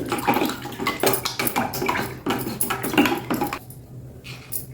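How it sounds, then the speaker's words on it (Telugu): Salt gets stirred into water in a bowl, heard up close as repeated splashing and swishing with light clinks of a spoon or vessel, continuing in uneven bursts without speech. "కొన్ని నీళ్ళు తీసుకుని అందులో సాల్ట్ వేసుకోండి సాల్ట్ వేసి బాగా కలిపేసేయండి"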